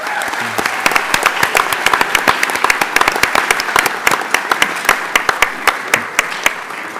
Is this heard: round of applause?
yes